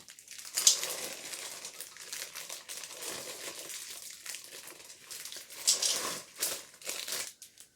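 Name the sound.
pouring butterscotch chips from a crinkly bag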